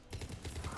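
A brief, quiet rattle of rapid automatic weapon fire in the video game Mass Effect 3, a fast, evenly spaced string of shots lasting under a second.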